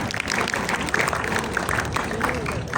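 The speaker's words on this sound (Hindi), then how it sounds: "अभी तालियां हो जाए," Dense, steady applause from a crowd, with many overlapping claps, fairly loud and close, continuing evenly throughout.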